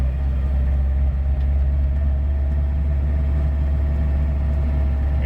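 A campervan's 2.0 petrol carburettor engine drones steadily, a loud, even low rumble with a constant hum and no talk.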